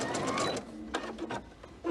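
A sewing machine stitches a few quick tacking stitches to hold fabric in place with the presser foot down, giving short bursts of close mechanical whirring separated by brief pauses.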